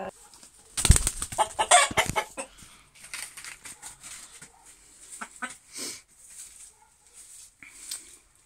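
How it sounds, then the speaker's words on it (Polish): Roosters squawk and cluck in a brief flurry of agitated calls during a fight, then scattered softer clucks and rustling follow at a moderate distance. "No, idzie kogut."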